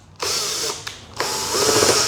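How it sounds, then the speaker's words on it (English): A power drill pre-drilling holes through a cabinet door, two loud whirring bursts separated by a short pause, close to the microphone with no talk. "I used this bit to pre-drill through here and into here at the right spot."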